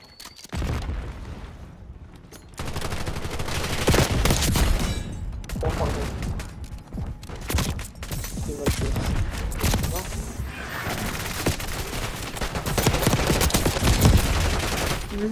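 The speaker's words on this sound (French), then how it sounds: "Je l'adore ce petit pistolet" Gunfire in the video game Call of Duty Black Ops 6, with rapid bursts of shots, booms and explosions crowding together at close range across a long stretch, and a voice talking over parts of it.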